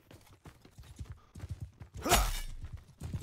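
Horse hooves clip-clop in a quick, irregular rhythm during a Mount & Blade II: Bannerlord multiplayer battle, fairly close, with a burst of louder impact noise partway through.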